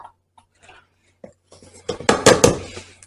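A metal lid is shifted among pots in a kitchen while baking Irish treacle farls, giving a few faint taps and then a loud, close clatter of clanking metal near the end.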